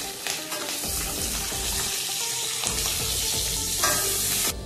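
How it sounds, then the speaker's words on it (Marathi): Capsicum sizzles steadily in hot oil in a pan, a loud, continuous frying hiss broken by a few stirring scrapes. "तेलात चांगली भाजून घ्यायची आहे शिमला मिरची"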